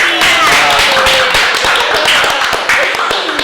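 An audience at a student economics association event claps, a brief burst of many hands in quick uneven taps, close and fairly loud, with people talking over it.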